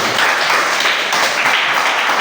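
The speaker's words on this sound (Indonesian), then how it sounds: "Tepuk tangan untuk Mimi." Classroom applause for a student, a steady, loud burst of many hands clapping together that fills the whole short stretch without letup.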